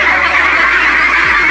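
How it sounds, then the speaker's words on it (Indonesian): Farmed BOD PBN ducks, grown near harvest size, make a continuous dense honking, quacking din from a large nearby flock, loud and steady throughout with no talk. "Nah, ini bebek BOD PBN kita."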